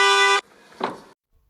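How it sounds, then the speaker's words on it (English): A car horn gives one loud, steady honk for under half a second, then cuts off, leaving a short burst of fainter noise before silence. "You want me to honk the horn?"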